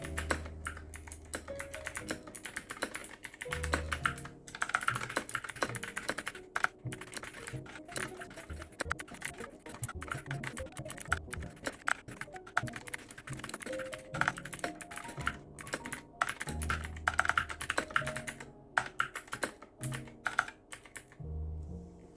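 Typing test on a Machenike K600 mechanical keyboard with blue switches and Mario keycaps: a dense, continuous run of crisp clicky keystrokes, close and steady for the whole stretch, with no voices.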